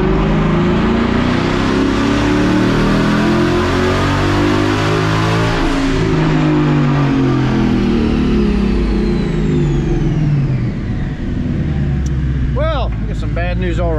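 A 2020 Ford Mustang with twin turbos revs hard on a dyno, its loud, close engine sweeping up and down through long pulls, with turbo whine and brief chatter near the end.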